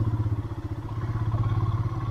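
An idling motorcycle sits close by with a steady, pulsing low engine thump while it is being parked on a mountain road ride.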